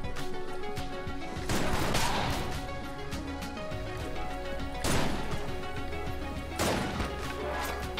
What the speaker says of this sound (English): It leaves poison and shoots shotgun shells.